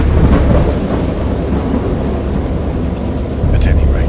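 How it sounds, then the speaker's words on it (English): Rolling thunder rumbles over steady heavy rain in the Dagon video game storm, a continuous loud low roar with a sharper crack near the end. "I have indistinct recollections of a great storm sometime after I reached the boat."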